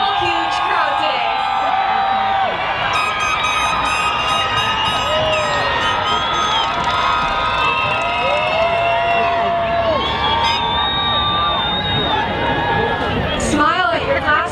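A huge crowd at a 2017 Santa Fe High School graduation ceremony cheers, whoops and whistles continuously and loudly, with shouting voices layered throughout.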